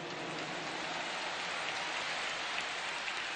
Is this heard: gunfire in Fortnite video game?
no